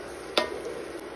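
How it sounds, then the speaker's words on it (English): Crayfish being stirred into egusi frying in a pot for Nigerian egusi soup: one sharp scrape of the spoon, then a steady soft sizzle throughout, close and fairly quiet. "After frying down our egusi for the last 15 minutes"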